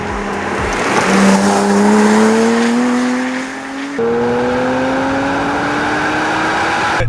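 Porsche Boxster with a 3.4-liter flat-six engine in a Need for Speed racing game, loud and close, revving up through gears with a rising whine, a brief dip around a shift, then climbing again, with no talking.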